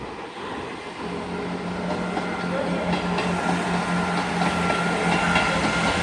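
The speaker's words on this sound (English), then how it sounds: "Also now departing will be your 11:41 Northern train service to Bridlington via Hull" A Northern passenger train, a class 158 diesel unit, pulls out of York station, with a steady low engine drone and rail rumble that gradually builds in loudness, plus faint scattered clicks from the track.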